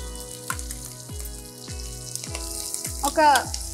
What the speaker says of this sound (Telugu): కరివేపాకు. ఓకే, సరిపోయి ఇప్పుడు ఉల్లిపాయలు వేస్తున్నాను